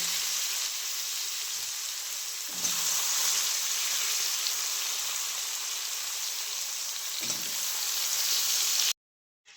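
Potatoes fry in a pan with a constant, even sizzle, close by, broken by a couple of soft stirring clunks before it cuts off abruptly.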